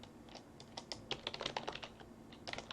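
Rapid, continuous typing on a computer keyboard, a steady irregular patter of close keystrokes at moderate loudness, with no speech over it.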